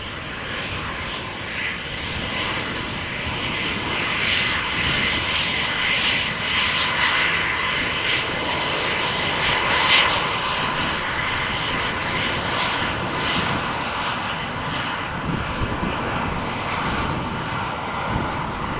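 A KLM Embraer E190 jet at Amsterdam Schiphol spools up its engines before an aborted takeoff, producing a steady, loud, distant roar that holds throughout with no voices.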